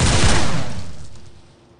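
A single rifle volley from a firing party at a 21-gun salute, one loud crack with a rolling echo that fades over a second or so, heard alone outdoors.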